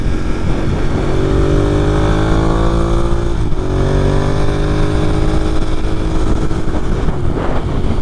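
Ducati Monster 1200S motorcycle engine heard while riding, a loud steady drone with shifting pitch sweeps as the rider rolls the throttle on and off, with wind rumble throughout and no talk.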